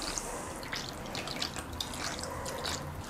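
Warm water poured into a mixing bowl for Turkish gözleme dough with olive oil, a steady soft trickling and dripping heard close up and alone, without a break.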